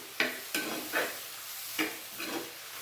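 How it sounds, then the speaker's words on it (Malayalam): A spoon scrapes and stirs spice powders into curry in a pan, a few distinct stirring strokes with a light sizzle, close and clear with no talking. "നല്ല രീതിയിലൊന്ന് ഇളക്കി യോജിപ്പിച്ച് ചേർക്കാം കേട്ടോ"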